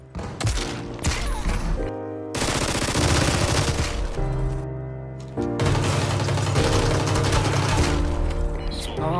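Rapid automatic gunfire in the shooter game Super People comes in loud sustained bursts separated by brief pauses, with dense overlapping shots close by.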